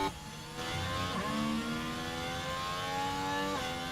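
A racing car engine in a video game Las Vegas race whines and revs steadily with rising tones, slightly distant and synthetic-sounding, no voices.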